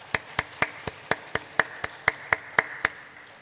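About a dozen evenly spaced, sharp claps ring out one by one in a church service, a slow rhythmic clapping of thanks for the Eunpyeong praise team, fairly close and alone with no talk.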